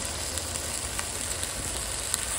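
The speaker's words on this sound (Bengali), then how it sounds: "এবারে আমি জল দেবো, আলুটা সেদ্ধ হয়ে যাবে যাতে" Potatoes frying in a pan hiss and sizzle steadily as water is added, a continuous close crackling wash with small pops throughout and no talk.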